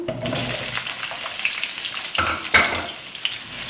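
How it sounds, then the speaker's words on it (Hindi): Potato pieces frying in a pan for chicken biryani, a close, steady sizzle broken by stirring scrapes and a few sharper clinks of the spoon against the pan. "इसको अच्छी तरह से मिक्स करेंगे और इनको तकरीबन 3-4 मिनट के लिए फ्राई करेंगे"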